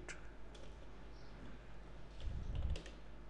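Quiet, scattered keystrokes on a computer keyboard as a short email reply is typed, light irregular clicks with a slightly denser burst near the end, heard alone against a faint room hum.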